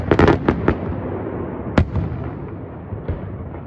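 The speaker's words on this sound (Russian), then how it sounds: "У нас салют в самом разгаре." Fireworks salute for Moscow City Day: a quick cluster of sharp bangs and pops at the start, then scattered single booms further off, all under a steady rumbling background with no talk.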